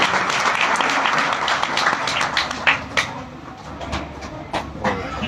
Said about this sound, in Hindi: एक बार जोर से तालियां बजा दो सारे